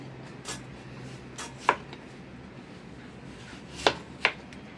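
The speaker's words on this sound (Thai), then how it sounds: "ปอกเผือกเสร็จแล้วนะคะ แล้วก็มาหั่น" A few sharp knife chops on a cutting board slicing peeled taro dry, irregular and close, with quiet pauses between strikes.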